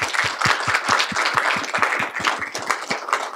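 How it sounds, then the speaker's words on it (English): An audience at a board of education meeting claps in a brisk round of applause, a dense run of close, sharp hand claps that holds steady before thinning out, with no talking over it. "How about one more round of applause?"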